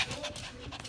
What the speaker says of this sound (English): So I heard the dog bark this way